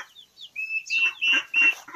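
Turkeys let out of a pen give a string of short, high, close calls, a few rising peeps and chirps following one another in quick succession.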